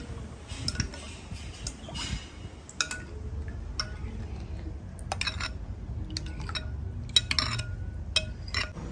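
Spoon clinking against a bowl while a Cimory jelly ice cream mixture is stirred with added water, giving soft scattered taps and faint liquid sloshing close by, with no voices.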